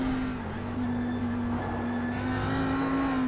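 Audi R8 GT3 race car engine at the Nürburgring Combined circuit in iRacing, droning loud and steady with a sustained high-revving tone that shifts pitch slightly through the run.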